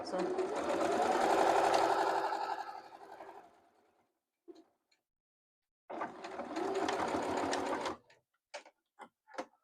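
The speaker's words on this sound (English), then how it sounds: "So I'm going to just start sewing." A sewing machine stitches a slit in fabric, running steadily for about four seconds, then stopping; after a brief knock it runs again for two more seconds, followed by a few short clicks.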